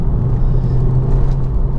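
Ford Focus RS Mk2 engine while driving, a deep steady rumbling drone heard from inside the car, loud and continuous with no voices.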